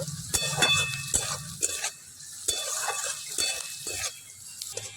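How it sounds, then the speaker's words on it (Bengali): Green chillies cut into small pieces are stirred and fried with onions in a pan for a Bengali beans pakora, giving a soft sizzle with scraping stirs and utensil clicks at close range, no talk. "লঙ্কাগুলোকে একটু পেঁয়াজের সঙ্গে নাড়াচাড়া করে নেব।"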